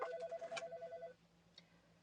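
A landline phone rings indoors at a busy flower-farm warehouse, a faint warbling ring that fades out, followed by a second brief chirp of the bell.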